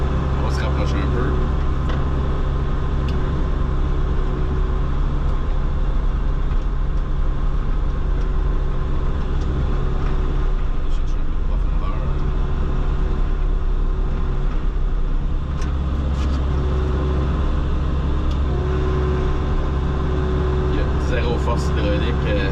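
An Osma mulcher head spinning on hydraulic power during ditch clearing, a continuous loud engine drone and hydraulic hum that stays steady throughout, with someone talking over it.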